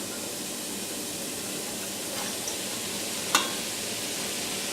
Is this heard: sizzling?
yes